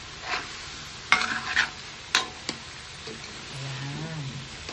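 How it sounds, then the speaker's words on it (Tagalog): Chop suey with shrimp stirred in a frying pan, giving sharp clattering scrapes of a utensil against the pan over a low continuous sizzle, with a quieter stretch of frying toward the end. "Habang si Jerome ay halo ng halo. Walang katapusang halo."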